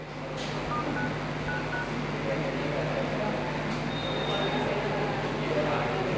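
Phone keypad tones from typing on a phone, a few short faint beeps scattered over a steady background hum with some talk.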